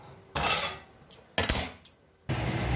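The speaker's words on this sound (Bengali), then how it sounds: "এবারে আমি খিচুড়ির মশলাটা কষে নেব" Metal utensil scrapes and clatters against a cooking pot while khichuri spices are fried with bay leaf, dried chilli, cumin, cinnamon and cardamom, coming in several short loud bursts separated by quiet gaps.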